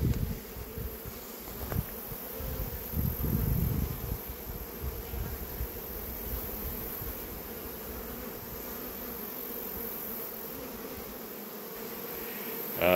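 Swarm of honey bees hanging under a tractor buzzing in a continuous dense hum, close and steady, with a few knocks and rustles early on.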